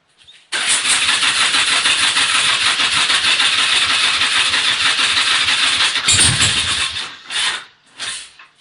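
A flooded car engine cranks in a long, loud, steady whirring run, then coughs and catches, followed by a few short revving bursts as it struggles to keep running.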